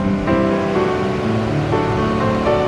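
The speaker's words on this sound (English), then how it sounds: "There's the falls right there." Water rushes over the falls at Shelburne Falls as a loud, steady broadband roar, with a shifting high tonal whine layered over it throughout.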